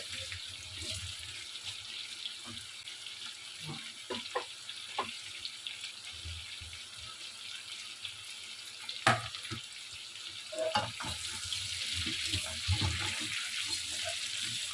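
Chopped garlic frying in a pan while making chilli chicken, a soft continuous hiss and sizzle with scattered crackles and a few sharp clinks, fairly quiet with no talking.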